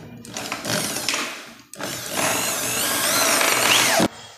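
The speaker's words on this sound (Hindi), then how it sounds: "तो हम क्या करेंगे कि फिक्स वाला स्क्रू यहाँ पे टाइट करेंगे।" A power screwdriver drives the fixing screw of a Godrej door closer into place during installation, whirring loudly in two sustained bursts with a short pause between, the second rising steadily in pitch before stopping abruptly.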